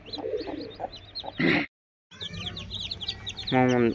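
Young chicks being let outdoors chirp and cheep in quick, high peeps, with soft clucking, a brief burst of handling noise, a short silent gap, then more close chirping.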